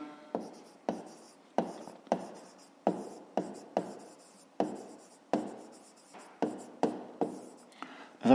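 A pen writes in a notebook during a fifth-grade math exercise, about fourteen short scratchy strokes in an irregular rhythm, close and quiet.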